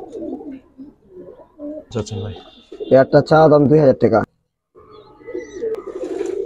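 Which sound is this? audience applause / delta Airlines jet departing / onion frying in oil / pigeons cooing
pigeons cooing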